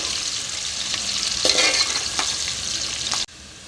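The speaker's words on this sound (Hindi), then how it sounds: "सब्ज़ी में प्याज जो है ज़्यादा ब्राउन नहीं होती, इसको हम इस तरीके से लाइट ब्राउन कर लेंगे।" Sliced onions fry and get stirred in a pan for mixed vegetable sabzi, browning lightly with a steady loud sizzle and crackle, a few scraping stirs midway, before the sound cuts down near the end.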